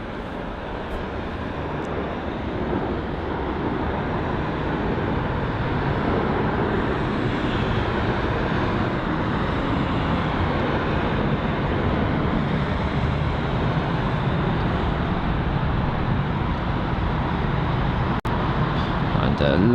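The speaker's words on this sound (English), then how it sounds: "So we have a departure. We've got a British Airways A320." A British Airways A320 jet departs from Heathrow with a loud, steady roar that stays broad and sustained and builds slightly over about twenty seconds, with speech faintly present in the background.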